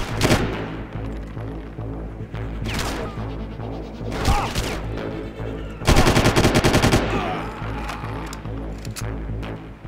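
Gunfire in the Far Cry video game, heard as repeated loud bursts of automatic shots and single cracks throughout, with a heavy, intense volley midway, all over a constant droning game soundtrack.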